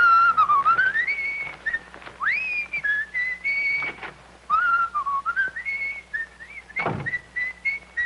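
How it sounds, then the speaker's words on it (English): A person whistles a wandering tune alone, with clear, sustained high notes broken by short pauses and one soft thump. "What have you got to whistle about?"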